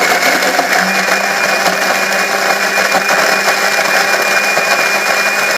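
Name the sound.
blender blending energy drink milkshake ingredients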